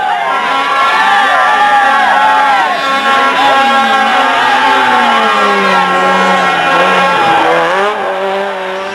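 A crowd cheers and applauds at a 1995 rally as a Peugeot 309 rally car drives by, with loud engine revs and tyre squeal over continuous crowd noise and a commentator talking.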